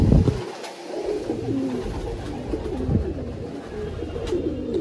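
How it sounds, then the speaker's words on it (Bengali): A male Kaldoma pigeon, a large show breed kept at a house, coos close by in low, throaty, repeated rolling calls that go on through the whole stretch. "এটা হচ্ছে নর পায়রাটা"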